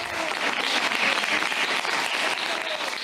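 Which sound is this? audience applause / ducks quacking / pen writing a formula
audience applause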